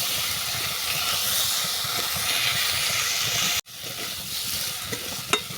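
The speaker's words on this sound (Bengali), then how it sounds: "আবারও আমি এটাকে ভালো করে কষিয়ে নেব।" Masala of ginger paste, cumin-coriander paste and slit green chillies hisses and sizzles steadily in a hot pan while being fried down for mouri shak ghonto, with a brief break and soft stirring clicks near the end.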